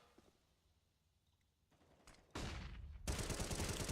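A Counter-Strike match on the Cache map: after a quiet lead-in, a sharp flashbang blast bursts loud and is quickly followed by a dense, sustained rattle of rapid gunfire.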